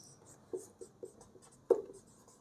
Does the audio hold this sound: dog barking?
no